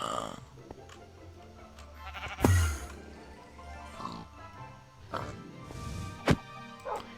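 Minecraft sheep bleat in short bursts over background game noise and scattered clicks, one loud bleat standing out near the middle.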